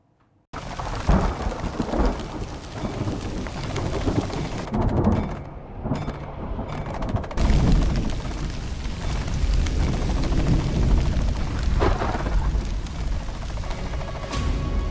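Heavy monsoon rain pours down in the Kedarnath valley with rolling thunder, a dense steady hiss of downpour broken by deep rumbling thunderclaps, loud and close, with no voices.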